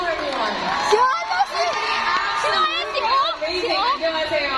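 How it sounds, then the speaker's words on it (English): Fanmeeting crowd in Manila cheering loudly and steadily, with excited shouts, whoops and chatter layered throughout; the roar stays dense without any clear break, and individual claps are hard to pick out. "Please greet them with a round of applause."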